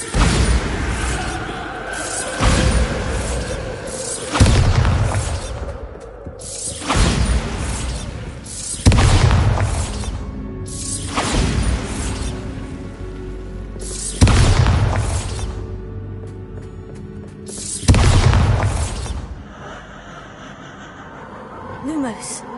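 Bombarda blasting spells in the video game Hogwarts Legacy go off as a series of loud, booming explosions spaced a few seconds apart, each decaying into rumbling debris, with a voice speaking between blasts.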